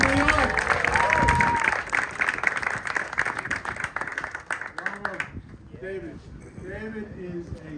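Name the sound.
audience applause for Andrew Cuomo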